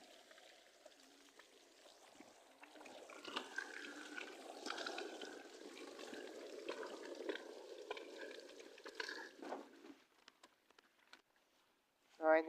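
Water gushes steadily from a motor pump for several seconds, a moderate rushing flow that fades out near the end, with faint voices in the background.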